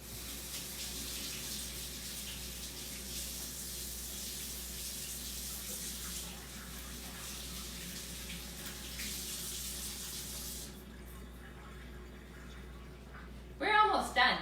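A kitchen tap runs steadily for hands being washed, a constant close hiss of flowing water that cuts off near the end, followed by a few brief knocks.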